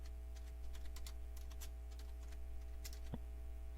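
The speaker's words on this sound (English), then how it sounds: "I'm gonna type in Windows Vista Starter" Computer keyboard typing while entering a name into a VirtualBox setup: a short flurry of light, close key taps over a steady background hum, ending with a single sharper click.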